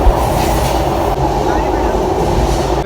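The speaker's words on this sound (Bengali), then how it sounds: "ভালো লাগে ট্রেনের এই ঝাঁকুনি" The Madhumati Express rolls along between Dhaka and Mawa, heard from inside the carriage as a loud, steady rumble and rattle of wheels and car body, continuous throughout with no voices.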